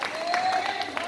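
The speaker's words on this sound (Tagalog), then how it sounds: "talagang malakas na palakpak" Congregation applause in a church service, a brief burst of clapping lasting about a second with a faint sustained tone above it.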